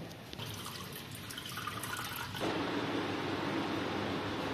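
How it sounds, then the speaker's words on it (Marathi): Water from soaked lentils (dal) draining in a kitchen, a steady close pour and splash that swells louder partway through, with no talk. "आपण आता त्याला ड्रेन करून घेऊ आणि त्यातलं आपण सर्व पाणी काढून घेऊ"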